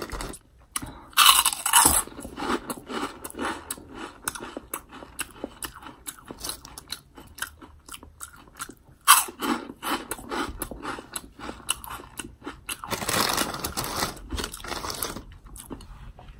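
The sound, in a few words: chewing crunchy Taco Bell cinnamon twists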